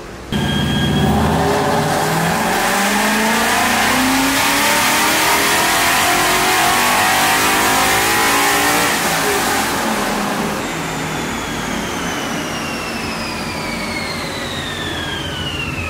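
Coyote-swapped New Edge Mustang on a dyno, its V8 revving hard in one long rising pull before the engine cuts back and the rollers spin down with a fading whine.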